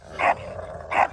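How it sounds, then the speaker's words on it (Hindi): A pitbull dog barks twice, close and sharp, with a low rumbling growl between the two barks. "भौंक भौंक कर जो आवाज़ आपको सुनाई दे रही है ये घुरार है"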